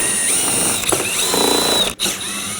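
A 7mm ratchet turns out the mud guard bolts on a 2018-2024 Chevrolet Equinox front fender liner, giving steady close mechanical clicking with a brief pause near the end.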